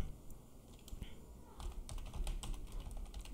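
Quiet clicks of typing on a computer keyboard, starting sparse and then becoming a steady run of keystrokes in the second half, with a faint constant electronic whine behind.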